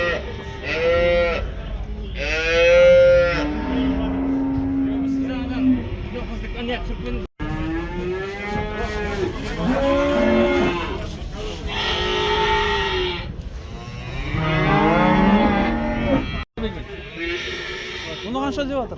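Cattle at a Kyzylorda livestock market give several long, loud moos and bellows, one after another, close by over the general noise of the market.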